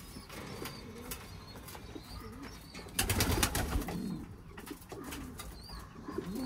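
Pigeons coo steadily inside an overcrowded loft, soft repeated throaty calls layered over each other, with a brief burst of wing flapping midway and a constant low background rustle.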